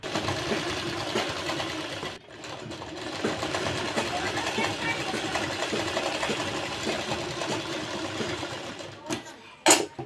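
A sewing machine runs continuously, stitching a double seam on palazzo pants, its fast steady hum close and loud, with one brief pause and a soft voice underneath.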